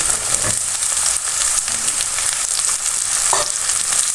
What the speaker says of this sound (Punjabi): ਹੁਣ ਆਪਾਂ ਪਾ ਦੇਣੇ ਇਹਦੇ ਵਿੱਚ ਆਲੂ